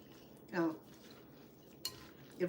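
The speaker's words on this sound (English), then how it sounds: "we're gonna go ahead and blend it really well" Green mango and shrimp salad being tossed and mixed with utensils in a bowl, giving a few short clinks and scrapes in quick bursts, fairly quiet and close, with no talking.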